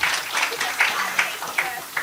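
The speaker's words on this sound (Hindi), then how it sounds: "इनके लिए ताली बजाइए।" Audience applause for a guest at a Hindi spiritual talk: a dense, steady wash of many hands clapping, fairly close and moderately loud, with faint voices mixed in throughout.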